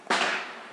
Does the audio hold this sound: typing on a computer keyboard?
no